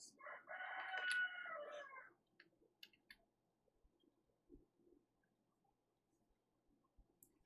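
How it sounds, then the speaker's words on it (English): A rooster crows once outdoors, a loud harmonic call lasting about two seconds at the start, followed by faint scattered background sounds. "I don't know if you guys can hear that rooster, but he is losing his mind out there."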